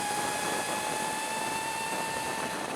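A Sur Ron Light Bee electric dirt bike with a QS165 motor gives a steady high-pitched whine with a constant tone, close and continuous, over rushing wind noise.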